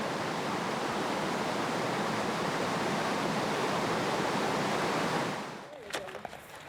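Avalanche Creek rushes through the polished rock of Avalanche Gorge in Glacier National Park, a loud, steady roar of whitewater that drops away near the end into quieter, scattered sounds.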